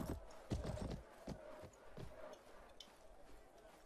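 Horse hooves clip-clop in a steady rhythm in Mount & Blade Warband, moderately close with some low thumps, continuing under faint background game noise.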